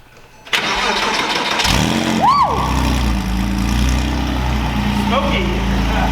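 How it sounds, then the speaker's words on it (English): A car with a loud aftermarket exhaust cold-starts with its valve closed: a sharp crank, then a rising roar and a brief rev flare that settle into a deep, steady, loud idle. "So here the valve's closed, cold start."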